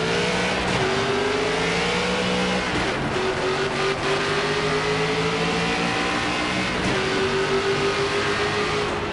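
A race car in NASCAR 25 accelerating hard, its engine note climbing steadily through gear after gear, loud and close, with brief drops at each shift before rising again.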